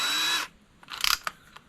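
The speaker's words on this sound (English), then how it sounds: "it's a ratchet, so it won't rip the drill out of my hands" A cordless drill whirs briefly, cranking a water-damaged mower engine through a ratchet; quick mechanical clicks and rattles follow, close and fairly quiet.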